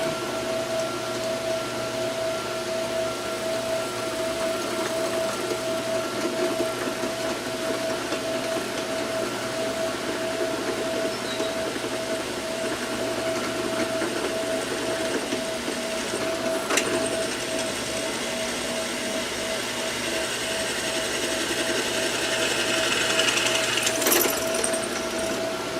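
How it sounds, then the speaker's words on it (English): A wood lathe running steadily while a 1/4 inch pilot hole is drilled into the spinning wooden workpiece: a continuous motor hum and whir with a faint grinding texture and a couple of brief sharp clicks, no talking. "I'm going to go ahead and drill a 1/4 inch hole"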